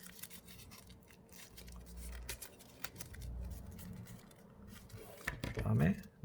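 Scissors snip through folded paper during a paper-folding craft, faint close cuts and paper rustles coming in small bursts while a voice talks over them.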